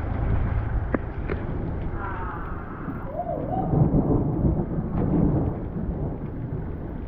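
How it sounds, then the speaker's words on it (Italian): Heavy rain pours steadily while low thunder rumbles and swells through the middle, with a few sharp cracks and a faint voice-like sound mixed in. "Adesso piove a dirotto."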